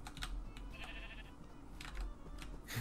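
Sheep bleat in Minecraft, a few short wavering calls under clicking keyboard typing, fairly faint.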